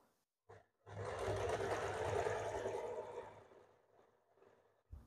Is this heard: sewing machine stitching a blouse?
yes